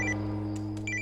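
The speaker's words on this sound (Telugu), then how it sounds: "రే నాకు కూడా శివగారి నుండి కాల్ వస్తుందిరా. కట్ అవడం లేదేంట్రా?" A telephone ringtone used as a movie sound effect in a horror thriller, a steady electronic ring repeating at close range and filling the whole short moment with no talk.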